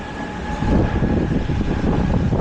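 Loud, steady rumble of a train passing close overhead in Berlin, with a continuous low roar and faint high whine, no voices.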